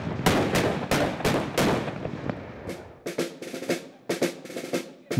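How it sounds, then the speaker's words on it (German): A rapid series of loud booming ceremonial mortar salute shots opening the grape harvest in Gumpoldskirchen, Lower Austria, fired in quick succession, echoing outdoors, with the blasts growing sharper and more spaced toward the end. "Böller auf! Schnelles Reihenfeuer,"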